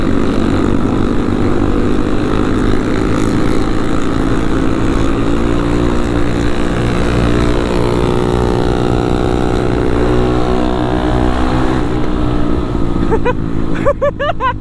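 Kawasaki KLX 450 supermoto engine under light throttle, a loud close droning buzz whose pitch sweeps up and down as the revs rise and fall, ending in a burst of crackling rasps.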